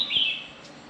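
Small caged birds chirp on a Hanoi street in the early morning, a short bright tweet standing out close and clear over quiet background noise.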